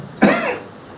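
A single sharp cough bursts out close by, then trails off into quiet room tone.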